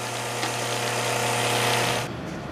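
Light sanding on the end of a metal pin for a Heathkit EC-1 analog computer patch cord, a steady close motor whir with a gritty abrasive hiss that stops abruptly near the end.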